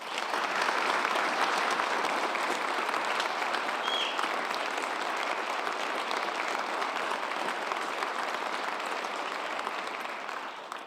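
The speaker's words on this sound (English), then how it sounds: "Please join me in a round of applause to thank Governor Noem." A crowd applauds Governor Noem with sustained, dense clapping that holds steady for about ten seconds before easing off at the end.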